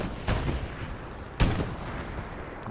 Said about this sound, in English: Yoshi continues to launch those SPA rounds out towards the distance